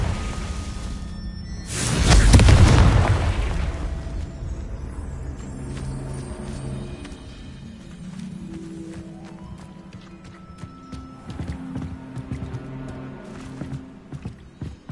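A Confringo blasting spell erupts in Hogwarts Legacy as one loud, broad burst that booms for a couple of seconds, then rumbles away into quieter magical and ambient game sounds.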